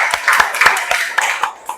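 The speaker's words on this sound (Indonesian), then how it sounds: "kita beri tepuk tangan untuk kelompok satu" A classroom group claps for the first presenting team: a brief burst of scattered hand claps, fairly close and lively, thinning out near the end.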